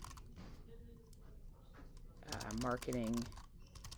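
Quiet keystrokes tap on a computer keyboard at a desk, a soft, irregular patter. A voice briefly speaks over the typing.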